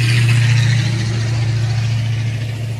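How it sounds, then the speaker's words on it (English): Steady road traffic rumbles past, loud and continuous, with engine drone holding throughout and easing slightly toward the end. "a lot of traffic today."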